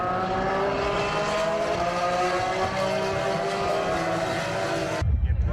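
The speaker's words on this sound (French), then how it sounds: "La F3 d'ailleurs ça fait un bruit," Formula 3 race cars at the Barcelona Grand Prix scream past with a high, layered engine whine that holds steady, then breaks off sharply into low rumbling noise.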